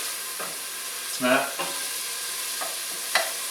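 Onion softening in a soup pot for spicy chicken noodle soup, giving a steady close hiss of sizzling with a few stirring scrapes, and a voice speaks briefly.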